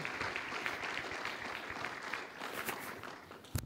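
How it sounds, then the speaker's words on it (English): Audience applause at a cardiovascular medical symposium as a speaker is called to the stage, sustained clapping from a sizable crowd with a few sharper individual claps standing out near the end. "Please give him a big round of applause."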